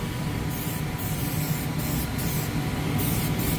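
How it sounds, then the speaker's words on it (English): A continuous hiss of 3M contact adhesive sprayed from an aerosol can runs steadily without pause, with brief interruptions in the highest hiss. "I think I'm going to spray it right now"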